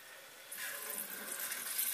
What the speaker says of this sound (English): I've now opened the tap very slightly. It's just trickling out.